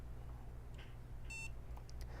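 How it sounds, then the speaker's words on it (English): A dryer master board powers up with one short electronic beep, heard faintly over a steady low hum of machinery and fans in an industrial setting. "Pushing that button will cycle power, and within a few seconds you'll hear a beep."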